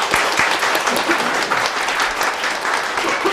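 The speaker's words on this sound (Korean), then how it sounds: "다 같이 수고한 모든 교우를 위해서 격려와 감사의 박수를 한번" A church congregation applauds together at a Sunday service, steady dense clapping from many hands filling the room at an even level for the whole stretch, with no voices standing out.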